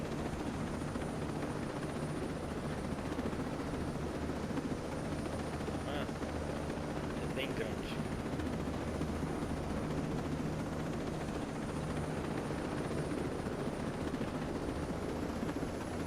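A helicopter in the video game Ghost Recon Breakpoint keeps up a constant, heavy rotor and engine drone throughout, with a few brief faint chirps partway through.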